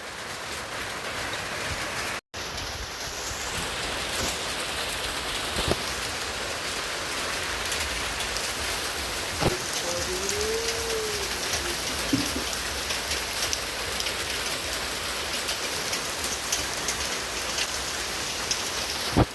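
Steady rain pours onto surfaces nearby as a dense, continuous patter, unbroken except for a momentary dropout, with no voices.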